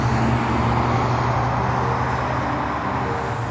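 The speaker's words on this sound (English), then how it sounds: "Teachers are constantly opening and closing windows to busy traffic and playground noise." Continuous low rumble of road traffic, with engines droning steadily and no pauses, fairly loud and unbroken throughout.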